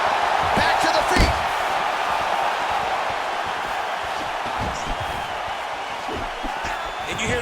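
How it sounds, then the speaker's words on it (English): Arena crowd in the EA Sports UFC 4 video game roaring and rumbling steadily for the whole stretch, with swells of cheering and whoops as fighters trade strikes, loud and dense throughout. "you hear the crowd react every time they come together"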